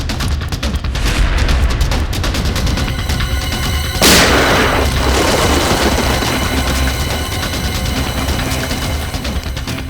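Gunfire in a Hindi C.I.D. crime drama scene. A loud, sharp blast cracks out about four seconds in and decays over a rumbling, noisy background, with a flurry of smaller impacts near the start.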